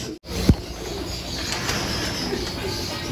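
Racing pigeons cooing in a loft and aviary, soft low coos against a busy background of wing flutters and bird chatter, with one sharp knock near the start.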